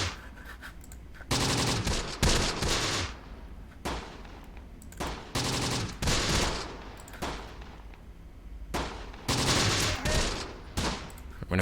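Machine gun fire in the video game Close Combat comes in long, loud sustained bursts of rapid shots, separated by short lulls of distant echoing gunfire, with no voices.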